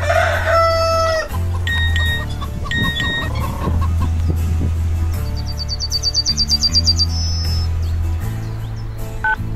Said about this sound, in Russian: Выращиваю картошку, кормлю курей, нянчусь с внуками.